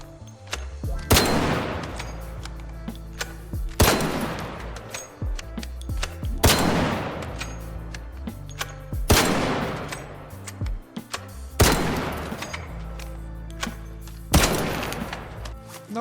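Six heavy, booming shots from a break-action gun in the game Arc Raiders, spaced a couple of seconds apart, each sharp blast ringing out into a long decaying tail, with no talking.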